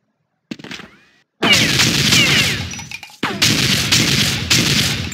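Rapid gunfire bursts from an old version of Counter-Strike crack loudly and repeatedly, with dense automatic volleys separated by brief gaps after a few short opening shots.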